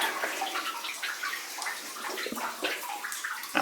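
Someone wades through water inside the flooded Thorndyke Mine, producing steady close splashing and sloshing with irregular gurgles and drips, no talking.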